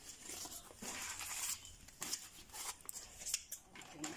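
Knife or scissors cutting through leaves being prepared for Fante kenkey, a series of close, crisp snipping and tearing sounds with light rustling, no talk.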